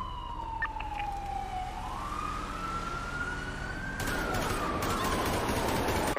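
A police car siren in a video game wails at moderate distance, one long slowly sliding tone, while a patter of gunfire-like crackle joins in over the last couple of seconds.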